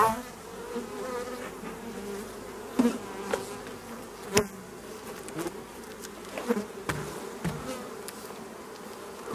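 Honeybees buzzing steadily around beehives fitted with honey supers, a dense continuous hum close by with occasional louder passes and knocks, no talking.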